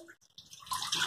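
Bath water sloshing and splashing in a tub, starting faint and quiet, then building into louder, steady splashing and running-water noise toward the end.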